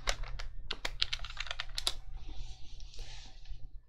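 A computer keyboard typed on in quick bursts of crisp, close clicks, thinning out toward the end over a steady low hum.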